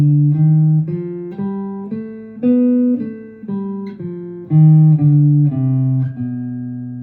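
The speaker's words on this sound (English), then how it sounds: "this is gonna be a B altered scale, and it's gonna sound like this." A B altered scale played note by note from B up to B on a pitched instrument, steady separate tones stepping upward, clear and close with no talking.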